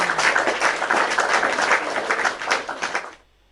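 Dense applause from a gathered audience, steady clapping at close range that cuts off abruptly near the end, leaving near silence.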